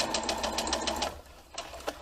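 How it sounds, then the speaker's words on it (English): A sewing machine stitches a lower bib to an upper bib on a baby's bib, a quick run of rapid needle clatter that pauses briefly and then starts up again, close and moderately loud. "I'm going to sew the lower bib to the upper bib"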